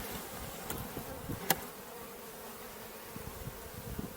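A small fall swarm cluster of honeybees being moved from one hive box to another, a soft steady buzzing close by, with faint clicks and a sharp knock partway through.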